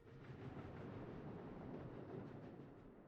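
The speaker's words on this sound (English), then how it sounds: "Oh yeah, you can hear the tram in the distance." A tram rumbles past at a distance, a faint, steady low roar with soft rail clatter that swells slightly midway and fades a little toward the end, with no voices.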